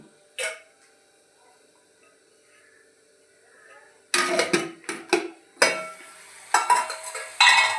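Raw banana fry being stirred in a pan after tempering, a few sharp utensil scrapes and clatters in bursts during the second half, following a quiet stretch with one brief knock near the start.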